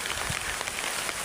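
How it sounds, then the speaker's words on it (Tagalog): Steady rain falling in a video game, a dense, even hiss of drops on surfaces with soft low patter, continuous and close with no pauses. "Pinapalakas yung ulan."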